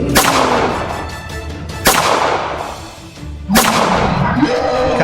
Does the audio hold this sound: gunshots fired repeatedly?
yes